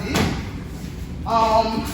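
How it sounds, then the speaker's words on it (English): A condo sliding door rolls and thuds near the start, followed by a brief voice, in a close indoor space. "It has a sliding door."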